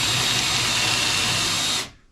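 Power drill boring holes while loft shelves are built in a tiny home, a steady close whir running for about two seconds before cutting off abruptly.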